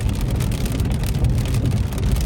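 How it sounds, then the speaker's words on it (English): Steady, dense rain in Las Vegas pours down around a car, a continuous broadband hiss of drops pattering on surfaces, loud and close throughout with no voices. "it's been raining like maybe 10 minutes, 15 minutes tops"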